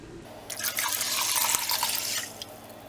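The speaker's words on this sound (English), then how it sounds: "Into our rinsed beans, I'm going to add 10 cups of water." Water poured into a pot of rinsed dry beans for a crock pot, a steady splashing stream that starts sharply, runs for about two seconds and tapers off, close and alone without talk.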